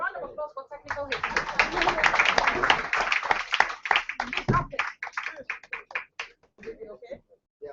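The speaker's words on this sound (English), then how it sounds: "Please, a round of applause for technical hits." An audience claps for the technical team, a burst of applause that rises quickly, holds for a few seconds, then thins into scattered claps. Talking can be heard near the start and again at the end.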